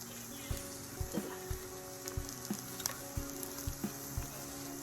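Pork sizzles on a Thai moo kratha grill pan out on a home balcony, a steady faint frying hiss broken by soft regular taps and clicks, with no talk.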